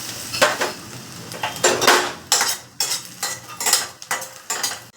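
Makhana fox nuts tossed in a pan of ghee on the gas rattle and clatter against the metal in repeated bursts, a crisp stirring rhythm of scrapes and knocks close by.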